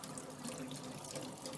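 Hot water gushes steadily from a tap over a greasy part being rinsed, a continuous broadband splash and hiss close by with no voices.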